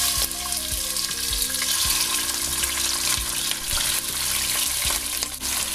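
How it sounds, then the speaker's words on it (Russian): Steady loud sizzling and crackling of meat frying in hot oil, continuous throughout with faint clinks in the background. "Раскаленное масло опускаем мясо."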